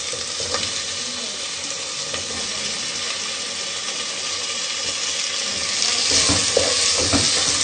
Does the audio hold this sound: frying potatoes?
yes